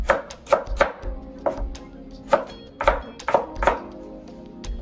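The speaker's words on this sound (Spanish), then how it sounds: "Corto la papa también en cuadraditos." A kitchen knife dices potato into small cubes on a cutting board, with a steady run of close, crisp chopping thunks in uneven bursts and no talk over them.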